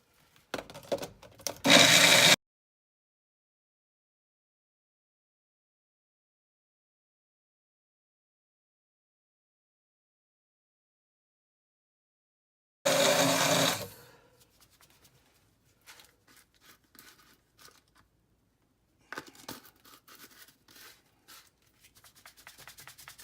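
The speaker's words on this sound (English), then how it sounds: "Shaking it up and breaking up the base of the mixer." Electric mixer blending a spice rub with brown sugar for a pork butt, a loud broadband whir in two short bursts, the first about two seconds and the second about a second, then faint rustling and shaking.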